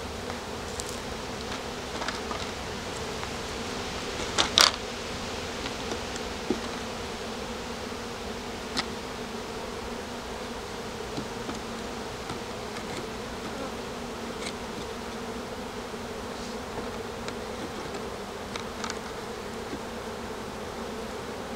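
Honeybees hum steadily around an open hive while the beekeeper works the frames during a spring colony split. The dense buzzing drones on close and evenly throughout, with a few brief clicks and knocks on top.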